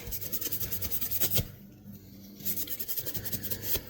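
Rapid back-and-forth rasping scrubbing of a Scotch-Brite pad against a vintage metal blade, steady close strokes with a brief pause midway before scrubbing resumes.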